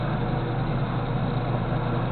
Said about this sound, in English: Hope my fan's not making too much noise,